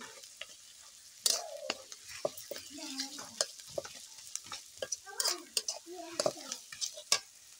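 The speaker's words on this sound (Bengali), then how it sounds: "এখন আমি দিয়ে দিচ্ছি 2টা আলু আগে থেকে সিদ্ধ করে ম্যাশ করে নিয়েছি। দিয়ে এবার একটু নেড়ে চেড়ে নিচ্ছি।" A spoon stirs boiled, mashed potatoes in a hot pan while making aloo kachuri filling. Close scraping and pushing strokes come in irregular bursts over a faint sizzle.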